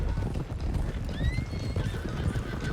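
Horses in Red Dead Redemption 2 trot with a steady, close clip-clop of hooves while a loud whinny rises over them partway through, and further neighs follow near the end.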